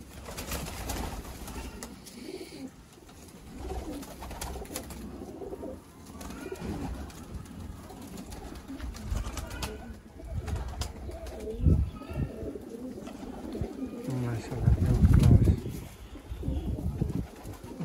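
Teddy pigeons cooing in a bird enclosure in Sialkot, soft low repeated coos from several birds nearby, with rustling and occasional wing movement and no talk.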